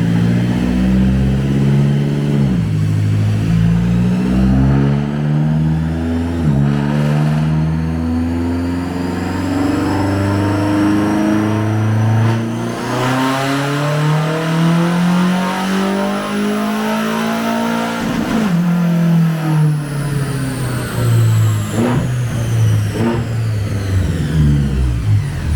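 A BMW X6M engine revs hard on a dyno in repeated long pulls, rising loudly in pitch, dropping back, and climbing again in a steady, close, continuous roar with no talking.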